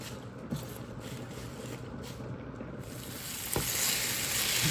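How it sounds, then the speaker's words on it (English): Spinach cooking down in olive oil in a pan, a steady soft sizzle with faint stirring clicks, close and continuous, growing slightly louder toward the end. "we're putting in a little bit of olive oil. Now we're going to cook down a handful of the spinach"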